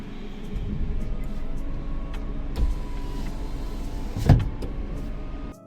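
A power window whirs inside a car, with a steady low motor hum from the cabin and a couple of thumps, the loudest near the end.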